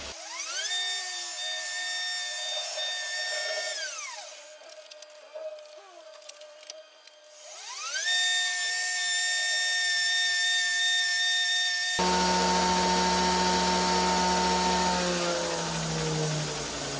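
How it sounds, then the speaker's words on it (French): A belt grinder sands a Damascus steel knife blade on a slack backstand belt, a loud whining tone that rises and falls as the blade is pressed and lifted, then shifts to a rougher, steadier grinding roar. "je suis monté jusqu'au grain 240 au backstand"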